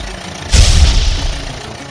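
A cartoon tractor engine in a children's learning song starts with a sudden low rumbling rev about halfway through, then keeps running steadily and loudly to the end.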